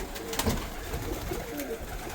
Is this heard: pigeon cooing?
yes